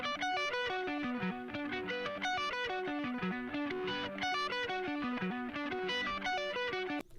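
A heavily distorted electric guitar plays rapid sweeping arpeggios, a short fast phrase repeating in a loop, loud and continuous.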